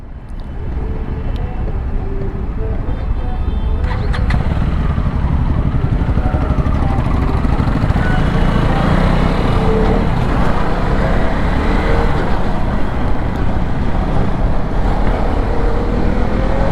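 A KTM 250 Duke Gen 3 motorcycle rides through city traffic, a continuous loud engine and wind roar with passing vehicle noise around it, steady throughout.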